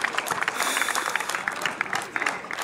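Crowd applause greets young players from the Maritsa youth academy at the official team presentation of PFC Maritsa 1921 Plovdiv, a lively burst of many hands clapping with an announcer's voice over it.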